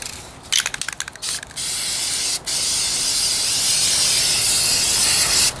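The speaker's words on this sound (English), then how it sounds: "I spray heavy on that." A spray can hisses in a few short bursts, then releases one long, steady spray of finish onto furniture at close range, with a brief pause partway through.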